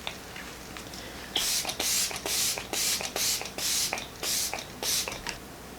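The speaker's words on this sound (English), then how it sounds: "I'm just gonna spray my face down." A spray bottle mists in about ten quick bursts, each a short, close, breathy hiss with brief pauses between.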